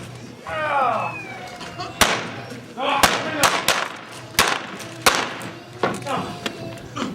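Blank gunshots crack out during a staged Old West gunfight show in Tombstone, with several loud, sharp bangs at irregular intervals between shouted lines from the performers.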